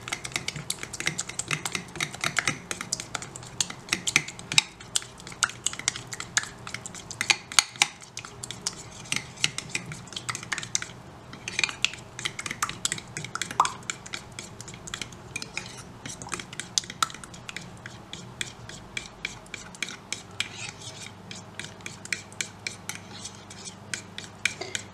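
Fast, steady clinking of a whisk or fork beating oil and vinegar into a sauce for Turkish börek, a busy rhythmic scraping against the bowl that runs close and continuous for the whole stretch without speech.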